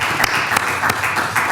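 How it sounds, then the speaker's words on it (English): At a city-hosted angel investing event, the audience claps for the investors in a brief, steady burst of fairly loud applause with a few sharper claps popping out. "Round of applause for the investors."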